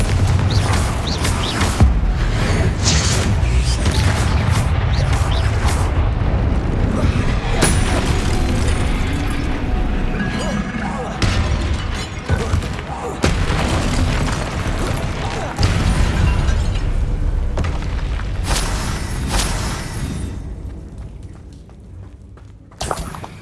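Repeated booming spell blasts and crashes from a troll fight in Hogwarts Legacy, loud impacts in bursts over a dense rumbling game soundtrack, with voices calling out incantations between them.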